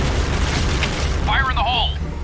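A grenade blast in the shooter game Point Blank gives a low, rumbling boom that fills the whole clip. A voice-like tonal sound briefly rises over it midway.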